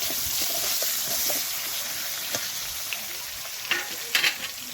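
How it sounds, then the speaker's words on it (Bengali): Cut potatoes fry in the oil left over from frying fish, a steady sizzle with occasional sharper pops and spatula scrapes toward the end. "এই তেলের মধ্যে আমি আলুটা দিয়ে ভেজে নেব"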